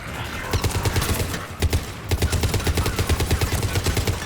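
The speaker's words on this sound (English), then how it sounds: "Wait, who's shooting at me?" Rapid gunfire in a Mass Effect 3 firefight, a dense rattle of repeated shots with steady rhythmic bursts and a short pause midway, loud and close.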